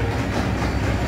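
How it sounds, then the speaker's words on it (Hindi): A train crossing the Ramganga river bridge, heard as a steady, dense rumble with faint rhythmic rail clatter throughout, loud and continuous with no pauses or voices. "ये देखिए, ट्रेन निकल रही है ब्रिज से।"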